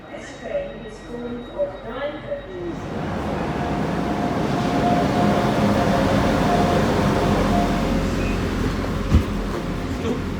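A Milford Haven passenger train rumbles steadily past at close range, a heavy continuous roar with faint rail clatter; brief voices are heard before it arrives.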